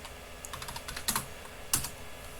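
Typing on a computer keyboard, a quick run of light key clicks followed by two slightly louder taps, close and clear with no talking.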